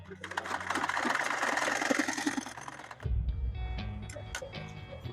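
A manual sewing machine stitches a straight-stitch buttonhole, making a fast, steady mechanical clatter for about three seconds, then a lower thump and a few scattered clicks as the machine stops.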